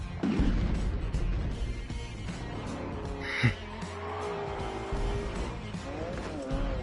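Tyre squeal and skidding car engine from The Grand Tour video game, with a loud continuous engine drone and a brief sharp screech midway, playing under game music and voices.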